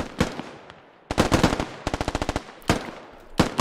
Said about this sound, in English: Shots across the eastern valley.